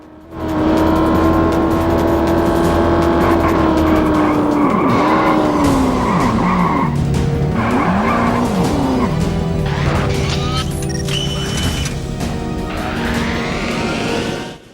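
A remote control car in the 007: Everything or Nothing video game whines along at speed, its motor pitch rising and dipping as tires squeal through repeated skids, loud and close for most of the stretch with no talk.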